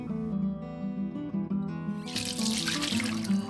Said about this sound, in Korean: 3배 정도의 양에 뜨거운 물을 붓습니다